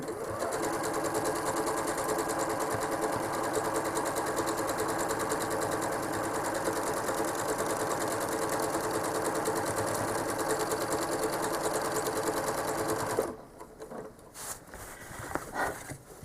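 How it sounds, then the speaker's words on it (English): A home sewing machine runs fast and steady while free-motion quilting a cobblestone-patterned quilt. The whir is close and continuous, then stops abruptly near the end, leaving a few soft handling noises. "I'm going to stitch it free motion"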